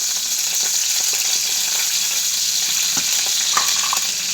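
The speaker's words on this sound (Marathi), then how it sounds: "तेल टाकल्यानंतर टाकायची जिरे, मोहरी, कढीपत्ता" Cumin, mustard seeds and curry leaves sizzle in hot oil in a home kitchen, making a loud, constant hiss with scattered sharp pops and crackles and no voices.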